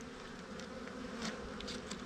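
Honeybees in a beeyard swarm over dumped-out old protein powder, making a continuous, fairly close buzzing hum with individual bees droning past now and then.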